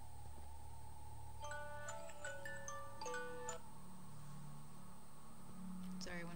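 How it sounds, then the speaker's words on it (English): A mobile phone rings faintly with a short melodic sequence of electronic tones over steady background hiss, with no clear speech. "My phone just rang."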